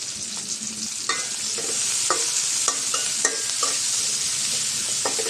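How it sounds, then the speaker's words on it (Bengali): Small shrimp frying in oil with chopped onion and green chili: a steady bright sizzle throughout, broken by a series of clacking stirs of a spatula in the pan, close and with no voices. "হালকা করে ভেজে নেব।"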